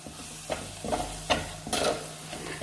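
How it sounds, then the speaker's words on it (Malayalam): Kashmiri chilli powder and turmeric fry over low flame in a pan for a Kottayam-style Kerala fish curry, with rhythmic spatula scrapes about every half second over a soft sizzle, nearby and with no voices. "ഇതിനി പച്ചമണം മാറുന്നത് വരെ ഇളക്കി കൊടുക്കണം."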